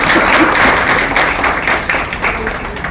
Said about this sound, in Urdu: اگر آپ اسے ایکسپٹ کرتے ہیں تو ایک بار زوردار تالیاں ہونی چاہیے